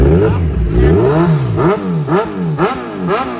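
A Kawasaki Z1000 motorcycle engine starts and rumbles loudly, its pitch rising and falling through several sharp revs in quick succession, close up.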